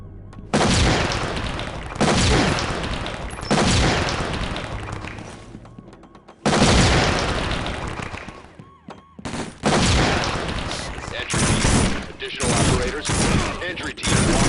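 Loud bursts of automatic gunfire in the tactical shooter SWAT 4, sustained volleys with short gaps, close and dominant, with occasional radio voices underneath.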